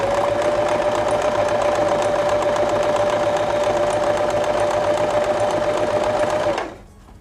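Sewing machine stitching at stitch length 1 and width 5: a loud, even mechanical whir with a steady hum runs continuously, alone, and cuts off abruptly just before the end.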